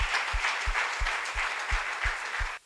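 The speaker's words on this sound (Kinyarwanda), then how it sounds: "dukomere umwami amashyi." A church congregation claps in unison, steady rhythmic beats about every third of a second, loud and close, stopping abruptly near the end.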